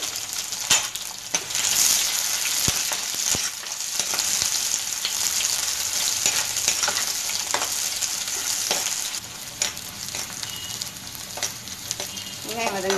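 Onions sauté in a pan with cumin and chili powder for a banana flower kadaiyal, giving a loud, continuous sizzle broken by sharp scraping clicks from a stirring spoon, with no talking.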